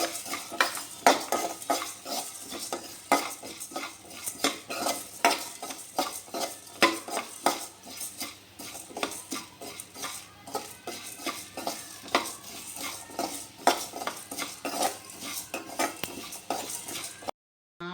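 Whole spices for a traditional fish curry dry-roasting in a pan, with a steady run of sharp scraping and clinking from a metal spoon stirring against the pan, close and fairly loud, faint sizzle underneath and no talking.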